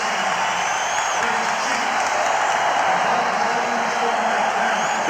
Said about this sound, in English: This is the most enthusiastic I have ever seen a Forum crowd.